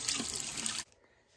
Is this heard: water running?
yes